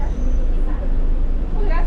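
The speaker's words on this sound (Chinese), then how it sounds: "他们的公交车来了" City bus pulling up at a stop in Argentina, its close, loud engine rumbling steadily under a constant low roar of street traffic, with people talking nearby.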